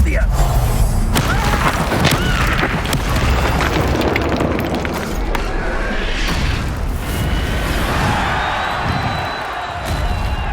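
The Incendio fire spell in Hogwarts Legacy goes off as heavy booming bursts and fiery whooshes, with loud thuds near the start and a dense rumbling roar that carries on throughout.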